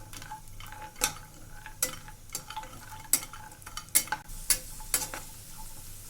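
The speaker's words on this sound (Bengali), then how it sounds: "বেশি ভাজতে গেলে কিশমিশগুলো পুড়ে যাবে।" Cashews and raisins fry in oil for zarda as a quiet, soft sizzle runs beneath sharp, intermittent clinks and scrapes of a spoon stirring the pan, about seven distinct knocks over several seconds.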